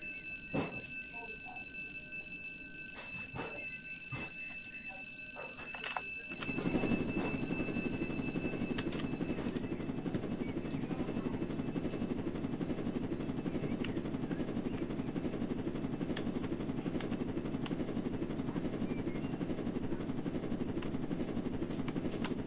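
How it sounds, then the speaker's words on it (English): Helicopter in the Roblox Jailbreak video game, a steady loud rotor and engine drone that swells in after a quieter stretch and holds continuously, with scattered sharp game effects on top. "Okay, finally another chopper."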